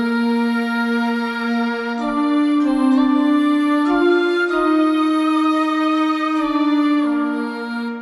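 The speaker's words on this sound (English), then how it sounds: "So I used an oboe plus a female voice doing like ah." A leading melody played by a layered oboe and a voice singing an open vowel, sustained notes stepping through a slow tune with clear, bright tone and no other talk.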